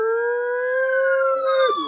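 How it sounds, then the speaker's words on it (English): A single steady tornado warning siren tone in St. Louis, wailing and slowly sliding down in pitch, clear and fairly loud, with no voices. "I'm talking sirens like"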